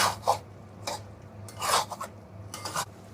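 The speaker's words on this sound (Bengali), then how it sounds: "সব মশলা দেওয়া হয়ে গেছে, এবার ভালো করে চিকেনটা কষিয়ে নেব।" Chicken for a spicy Bengali chicken kosha curry is stirred and fried in mustard oil with spices in a pan, giving a few separate scraping spatula strokes close by over a faint background hiss, with no talking.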